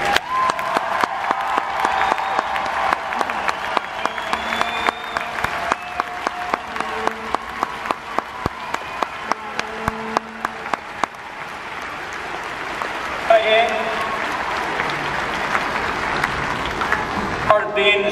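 Crowd applause at a hockey game between periods, a dense sustained clapping from a large arena audience with occasional louder claps, continuing steadily for a long stretch.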